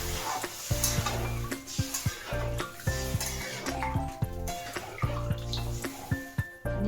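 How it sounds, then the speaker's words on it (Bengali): Water from a spice bowl poured into frying masala for a Bengali koi fish curry with cauliflower, giving a close, busy sizzle with steady rhythmic scraping and clinks of a spoon against the pan. "মশলা বাটির জলটা দিয়ে দেবো।"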